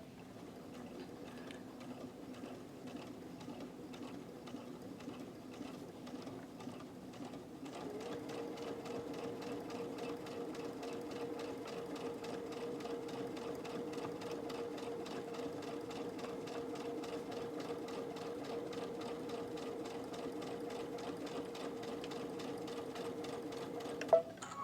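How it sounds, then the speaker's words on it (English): A Brother sewing machine fitted with an embellishment presser foot runs a steady straight stitch, its even mechanical whir close and continuous, growing slightly louder partway through and ending in a small click. "So I am just going to stitch straight on down."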